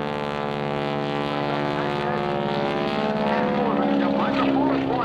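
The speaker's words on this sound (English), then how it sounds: "Roll the airplane right there to knife edge plane." A T6 airplane flying aerobatic hesitation rolls gives a loud, steady propeller-engine drone with shifting pitch, sustained and close throughout.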